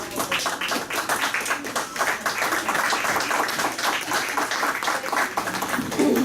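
Applause from a seminar audience greeting a guest lecturer at a course on cost-benefit analysis of bills, a dense steady patter of many hands filling the room at moderate loudness, with a few voices mixed in.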